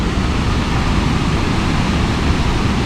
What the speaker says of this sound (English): a really unique waterfall here